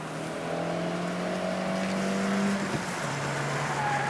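A front-wheel-drive Peugeot races hard on track, its engine note holding steady then dropping sharply under heavy braking into a corner, loud and close with no talk.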